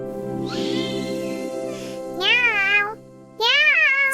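A voice imitates a cat, giving two drawn-out, wavering meows, each rising then falling, clear and close.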